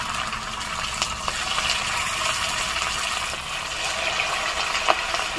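Chicken lollipop balls fry in hot oil, giving a steady, even bubbling hiss with small crackles scattered throughout, moderately loud and with no voices.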